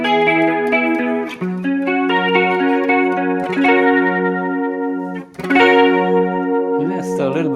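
Electric guitar played through a Soldano amp model on a Sonicake Matribox 2 Pro, lightly distorted sustained chords ringing one after another with chorus-like shimmer, loud and close.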